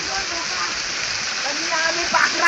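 Steady broadband rush of water falling at a waterfall out in wild forest country, continuous and fairly loud, with faint voices in the background.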